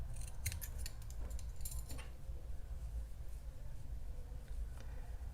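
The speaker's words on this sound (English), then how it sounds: "After that, you'll cut your yarn." Scissors snip through crochet yarn in a few quick, quiet cuts in the first two seconds, with faint metallic clicks, then only soft room noise.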